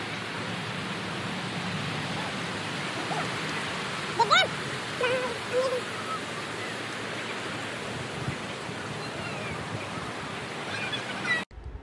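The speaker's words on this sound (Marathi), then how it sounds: "तुम्ही पाहू शकता समोर धबधबा दिसत आहे" The waterfall at Marleshwar in the Konkan gives a constant, dense rushing roar for the whole stretch, with a few brief louder splashy bursts midway before it cuts off abruptly at the end.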